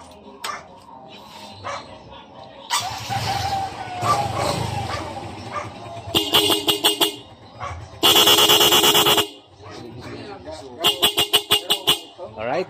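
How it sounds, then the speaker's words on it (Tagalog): A newly installed horn on a Suzuki Smash 115 motorcycle honks in several bursts: one long steady blast and a series of short rapid toots, loud and close, with talking earlier on. "check muna natin yung busina"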